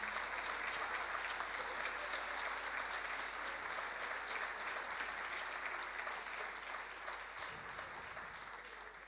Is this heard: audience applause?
yes